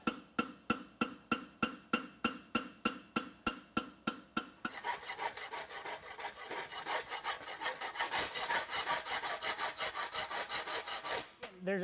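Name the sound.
filing a forged horseshoe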